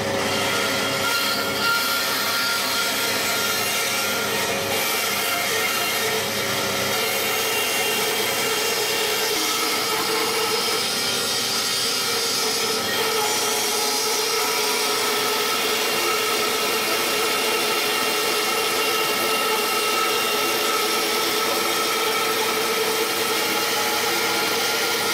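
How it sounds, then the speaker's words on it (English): A bandsaw cuts through a laminated wooden boat stem with a loud, continuous whine and roar that holds steady for the whole stretch, close and unbroken. "There's the stem shaped away on the bandsaw."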